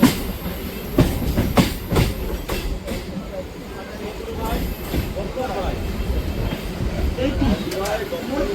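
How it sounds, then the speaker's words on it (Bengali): A train leaving Sealdah station rumbles steadily with rhythmic wheel clatter and occasional sharp clicks, heard from on board, with voices talking underneath. "ট্রেন আমাদের ছেড়ে দিল শিয়ালদা স্টেশন"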